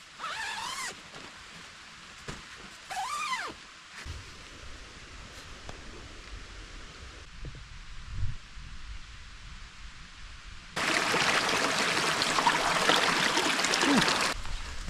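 A mountain stream runs at a backpacking campsite along the Mt Stanton Trail in New Hampshire's White Mountains, a steady close rush of water that swells in partway through after earlier rustling and zipper-like gear handling.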